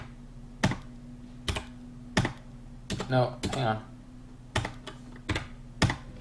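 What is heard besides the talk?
typing on a computer keyboard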